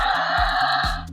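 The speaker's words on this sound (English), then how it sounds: "the screeching sound of a prehistoric bird" A Jurassic World Amber collection prehistoric bird toy gives off an electronic screech, a loud, sustained, harsh squawk with a buzzing tone that cuts off after about a second.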